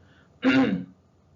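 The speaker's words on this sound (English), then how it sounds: "Clearing my throat there." A single short, gruff throat clearing, close and fairly loud, lasting under half a second amid quiet.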